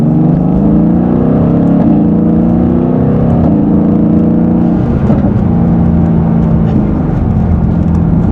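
A 2016 Mercedes-Benz AMG GT S accelerating hard in sport mode in second gear, its engine a loud, continuous rising roar with steady harmonic drone that shifts pitch partway through, heard alone without talk.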